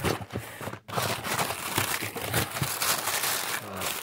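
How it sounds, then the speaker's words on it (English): Someone opening a freshly cut-open package holding a custom Xbox controller part, with close, continuous crinkling and rustling of plastic and paper wrapping, broken by a brief quiet gap near the start. "I have a package we're going to open up right now"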